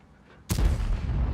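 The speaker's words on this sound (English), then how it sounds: "Now it looks like somebody's shooting back at you. Here's another shot in." A single loud tank cannon blast in World of Tanks, on the Cliff map, with a sharp onset and a long rumbling boom tail.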